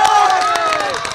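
A crowd at a Bihar election campaign gathering, in a constituency where Khesari Lal Yadav is standing, claps and cheers on request. The noise is loud and dense, a steady wash of applause and voices for about a second.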